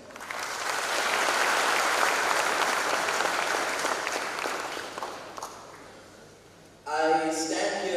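Audience applause after a speech at an event by the Vivekananda Yuvak Sangh, a swell of clapping that builds, holds and slowly fades, then a voice begins speaking over the dying claps.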